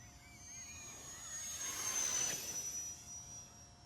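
A small UMX Viper FPV model plane makes a fast low pass, its thin electric whine swelling as it approaches, peaking midway, then fading as it moves away.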